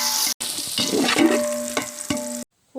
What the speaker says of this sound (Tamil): வெங்காயத்தை நல்லா பொன்னிறமாக வதக்கி விட்டுறலாம்